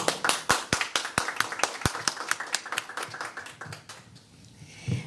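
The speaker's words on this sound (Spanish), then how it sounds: "Vamos a recibir con fuertes aplausos" Audience applause at a nursing care management course, many hands clapping in a dense, steady burst that thins out toward the end, fairly near and loud, with no talk over it.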